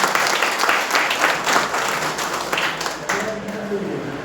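Audience applause greets Babulal at a political workers' gathering on Dr. Syama Prasad Mookerjee's birth anniversary, a dense, sustained burst of clapping from many hands that gradually tapers toward the end.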